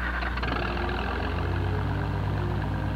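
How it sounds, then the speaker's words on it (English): The experimental XO-121 engine fitted to an Oliver tractor runs steadily at idle with a deep, continuous rumble and throb, loud and close, with no voices over it. "The tractor with the experimental engine, which is ahead of tomorrow."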